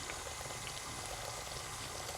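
Butter melts in a pan on a kitchen stove, giving a steady, close bubbling sizzle that runs unbroken throughout.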